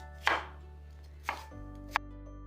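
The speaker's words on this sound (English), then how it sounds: "just roughly chop and then add it to your blender with the other ingredients" A knife roughly chopping a green pepper on a cutting board, three sharp, distinct knocks about a second apart over a low steady hum, with no talk.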